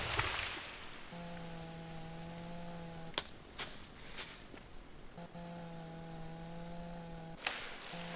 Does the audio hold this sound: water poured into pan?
no